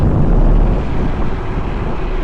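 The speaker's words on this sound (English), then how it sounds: "it's a bit windy today" Heavy wind buffeting a microphone while riding an OBARTER D5 12-inch electric scooter at speed, a loud continuous low roar and rumble with no break.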